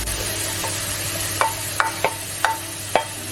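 Capsicum tossed into hot oil in a pan on low heat for a bean-free chilli, giving a steady sizzle with a few sharp clinks and scrapes of a utensil against the pan.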